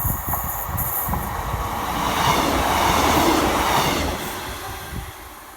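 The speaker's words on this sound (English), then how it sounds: "That's why it's beeped, saying the train's coming." Train rushing past on a railway line near a walking route, a broad rumble and rattle that swells to a peak mid-clip and then fades as it moves away, with no talking.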